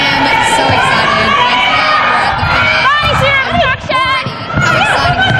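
Sold-out crowd at an under-20 netball league final, loud continuous roar with shrill children's shouts and cheers rising in bursts, a commentator talking over it.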